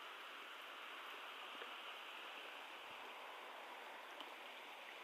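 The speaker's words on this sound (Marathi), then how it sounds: "खूपच जास्त पाऊस चालू आहे." Heavy monsoon rain falls steadily outside a farmhouse in Malunje, a continuous dense hiss of water with occasional soft drips, moderately distant and unbroken, with no voices.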